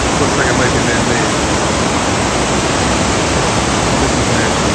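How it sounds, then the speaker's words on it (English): A small side waterfall on Scotland's north coast rushes in a loud, steady broadband roar of falling water that fills the whole span without a break. "Another little side waterfall over here."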